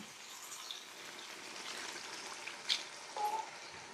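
Water poured into a pot of goat curry, one liter going in as a soft steady splashing pour, fairly quiet, with a couple of brief louder splashes near the end and no talking.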